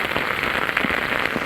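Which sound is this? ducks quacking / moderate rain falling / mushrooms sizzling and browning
moderate rain falling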